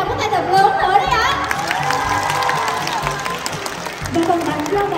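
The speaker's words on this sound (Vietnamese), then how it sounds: "Một tràng vỗ tay thật lớn nữa đấy ạ" A large crowd at a fan event claps and cheers loudly, with whoops and children shouting mixed into a dense, continuous roar and chatter, heard up close.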